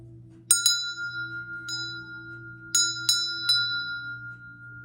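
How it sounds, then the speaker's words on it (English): A root chakra bell rings several times in a quiet room, each bright metallic strike sustaining a long shimmering tone, with a low steady hum underneath and no talk. "I'm going to ring the bell one more time, just so you can feel the vibration of the root chakra bell"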